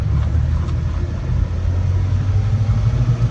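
A Polaris Slingshot on its stock exhaust idles steadily up close, a low, even engine rumble holding without revving for a few seconds.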